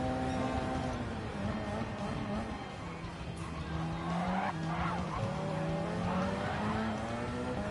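Gran Turismo 7 Gr.1 race cars in an online championship round, one skidding and spinning out at a chicane: continuous loud engine drone and tire squeal with shifting pitch, sustained throughout.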